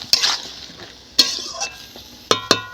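Bottle gourd pieces with salt and turmeric are stirred in a pan. Sharp, close spatula knocks and scrapes come in a few separate bursts over a low, quiet sizzle.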